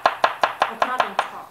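Garlic cloves are chopped with a knife on a board, about eight quick, evenly spaced sharp chops in a brisk rhythm, close and clear with no talking.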